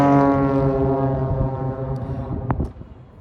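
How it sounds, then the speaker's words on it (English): An airplane flying low overhead beside an airport, heard from a building right next to the runway area: a loud, steady engine drone with a strong whining tone that holds, then thins and fades near the end, with no talk. "Hold on, airplane."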